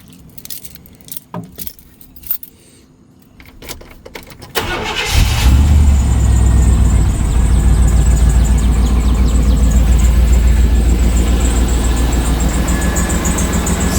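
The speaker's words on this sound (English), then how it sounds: "Let's start the truck up." Keys jangle and click for a few seconds, then a Chevrolet Silverado pickup's engine cranks and catches, settling into a loud, steady close idle that runs to the end.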